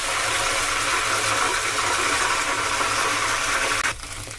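Ghevar batter poured into hot ghee in a pan over a high flame, a continuous loud sizzling hiss like rushing water that holds steady and then drops off abruptly near the end.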